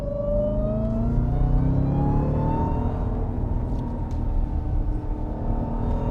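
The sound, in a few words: Jeep Trackhawk supercharged engine accelerating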